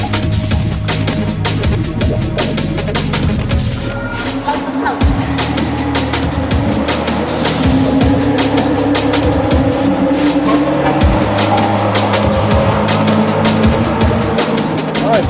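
A 2017 Audi R8 sports car driving hard, engine roaring continuously with revs climbing and falling, tires squealing, and a voice talking intermittently over the engine.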